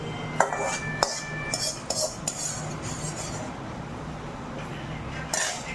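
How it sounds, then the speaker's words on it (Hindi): Steel utensils and dishes are washed by hand, producing repeated sharp clinks and clatters of metal on metal over a low running background. "तो इनको बर्तनों को अच्छे से साफ कर लेती हूँ।"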